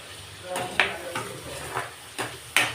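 Potato pieces fry in oil in a pan as a utensil scrapes and knocks against the metal several times over a soft, constant sizzle.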